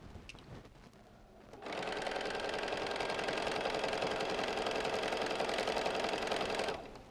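A sewing machine stitches a lined Christmas stocking, starting after a short pause and running in one steady, close, rapid whirring burst for about five seconds before stopping abruptly.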